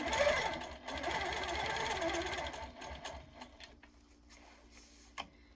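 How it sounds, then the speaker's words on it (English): A powerquilter 1650 quilting machine stitches in the ditch along a ruler, its rapid mechanical needle chatter running steadily for about three seconds before slowing and stopping, leaving faint handling clicks. "So I'm going to stitch in the ditch here."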